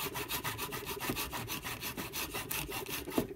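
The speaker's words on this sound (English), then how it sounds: "They're going to hold you up off the table so that you can saw without sawing into your table." Hand saw cutting a wooden clothespin in half, propped up off a craft table, steady rapid back-and-forth strokes close up, rhythmic and continuous with no talk.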